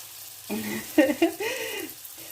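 Brik pastry filled with tuna frying in hot oil in a small pan, a soft steady sizzle running under a person's voice.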